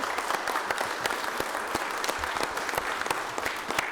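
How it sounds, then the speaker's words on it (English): An audience at a county commission meeting claps steadily and evenly for a few seconds, a dense patter of many hands with no voices over it. "So if y'all could let's clap for Josie"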